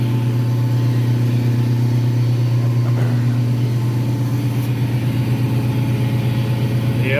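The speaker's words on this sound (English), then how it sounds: "Compressor just kicked on" An air compressor runs in a steady, loud, low motor drone with a constant hum and faint pulsing, continuous throughout without pause.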